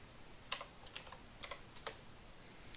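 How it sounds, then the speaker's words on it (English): Keys tapped on a computer keyboard while entering data into a Google Sheets spreadsheet, a handful of sharp, quiet clicks in an uneven rhythm, close and alone. "You can type in text. You can type in numbers. You can type in formulas."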